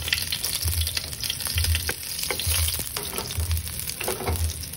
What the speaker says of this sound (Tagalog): Okay, we're gonna saute the garlic.